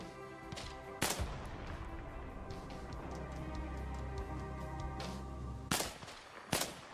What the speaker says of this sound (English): The other sniper shot at him too